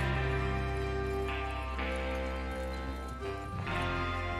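Hooves clip-clop steadily in the Western open-world game Red Dead Redemption 2, blended with a dense musical score and in-game ambience, with an occasional horse whinny and no talk over them.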